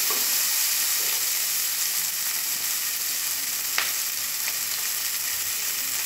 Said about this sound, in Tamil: இப்போ இதை நல்லா ஃப்ரை பண்ணிக்கலாம்.